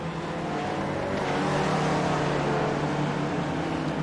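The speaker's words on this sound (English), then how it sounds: "He just spun out on his own" A race car in a sim racing game at Sonoma, an SRF spec car, roars with a dense, constant engine drone, heard close and loud with no pause.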